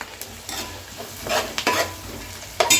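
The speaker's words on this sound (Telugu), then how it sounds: "ఫ్రై అవుతుంది" Chicken biryani ingredients fry in a pan with a busy sizzle, while a spoon stirs and scrapes against the pan in several short, loud bursts. No one speaks.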